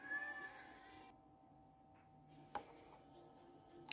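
A cat meows loudly and insistently behind a closed door, a few drawn-out cries at the start followed by quieter background and a short knock-like sound.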